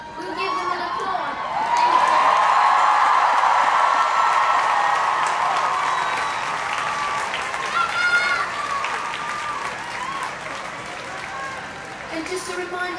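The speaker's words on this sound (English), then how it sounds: "We'll give them an applause." A large outdoor crowd at a climate strike in New York City applauds and cheers for the local organizers, a dense sustained wash of clapping with scattered whoops and shouts that slowly fades over several seconds.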